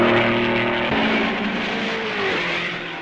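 Racing cars in the 1955 Belgian Grand Prix sweep past at Malmedy, a loud engine drone whose pitch slides down as the cars go by and fade away.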